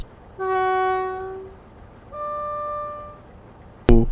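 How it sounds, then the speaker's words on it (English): A Class 47 diesel locomotive horn on an Armstrong Powerhouse model train sounds two separate blasts, the first a longer low tone and the second a higher tone, followed by a sharp click at the end. "Let's test out the horns."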